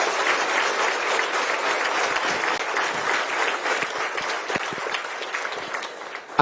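A church congregation gives strong applause, a steady, dense burst of many hands clapping that stays loud throughout and fades slightly near the end.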